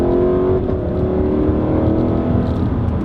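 A Lexus LC500 accelerating at half throttle, its engine a loud, steady drone with a tone that climbs smoothly, heard alone from close by.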